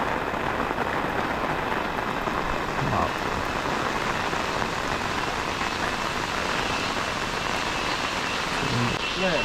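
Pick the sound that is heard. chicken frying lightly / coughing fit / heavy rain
heavy rain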